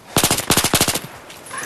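Rapid automatic gunfire in a multiplayer shooter video game: two loud, close bursts of evenly spaced shots, followed by a brief quieter tail.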